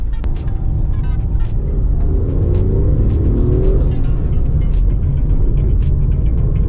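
The Tata Tigor CNG's three-cylinder engine, rated at 75 bhp, runs loudly at idle with a steady close drone and rumble, with a few faint clicks over it and no talk.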